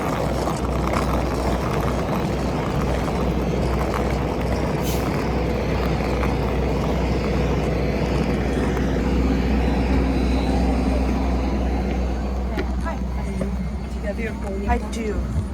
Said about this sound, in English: Let's go get on board this Q400.